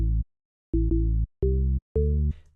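Serum synth bass with saw wave harmonics layered onto the oscillator, four sustained loud bass notes in a stepped pattern with short gaps, each cutting off cleanly.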